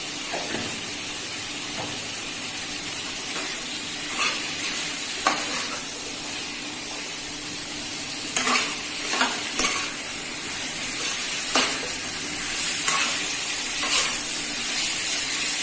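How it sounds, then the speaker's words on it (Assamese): Chicken pieces fry and are stirred in a pan, making a loud continuous sizzle and hiss broken by repeated scrapes and clatters of the spatula, with no talk. "মাংসখিনি আমি 15-20 মিনিট এনেকৈ শুকানকৈ ভাজি ল'ম"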